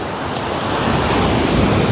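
Sea waves wash onto the shore in a steady, loud broadband roar of surf, mixed with wind buffeting the microphone, with no voices.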